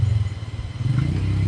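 A motorcycle engine rumbles close by with a low, pulsing throb that surges slightly as it rides along, heard alone for a brief moment.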